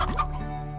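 A hen in the Slime Rancher video game gives a brief, throaty cluck followed by a soft low trailing sound, a single short call close up with no talk.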